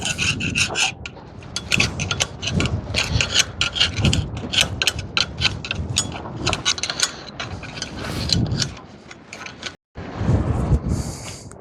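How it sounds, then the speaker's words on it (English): Socket work on the front idler bolts of a John Deere 130G excavator: repeated scraping, ratcheting and metallic rasping strokes in irregular bursts, close and fairly loud, with a brief pause near the end. "Okay, hopefully these unbolt."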